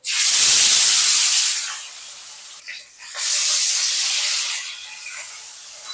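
Loud, close hissing of two pieces of bata fish frying in hot oil, a harsh sputtering sizzle that eases briefly midway before surging again.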